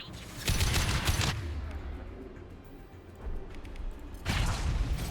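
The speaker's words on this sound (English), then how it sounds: "deploy suppressive fire!" Squad gunfire from Mass Effect 2 erupts in a loud rapid burst of shots, fades into a low rumbling lull, then fires another heavy volley near the end.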